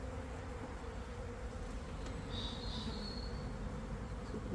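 A swarm of honeybees nesting in stored hive equipment gives off a continuous low buzzing hum, with one louder bee briefly droning close by partway through, no voices.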